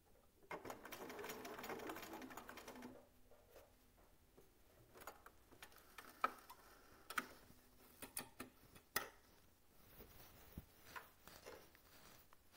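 A sewing machine stitches a seam in a steady mechanical whir that runs for a few seconds and then stops, followed by scattered soft ticks and taps from handling the fabric.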